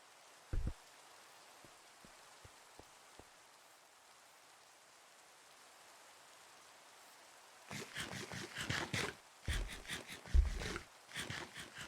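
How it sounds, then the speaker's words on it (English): Quiet stretch with a few faint ticks, then steady Minecraft rain picks up in the second half, a hissing patter with louder bursts of drops. "Y'all get to listen to the soothing sounds of Minecraft rain"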